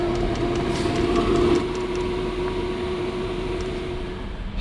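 A Chinese diesel heater running with its air hose reconnected, giving a steady droning howl with a constant tonal hum and fan rush, close and continuous throughout with faint ticking.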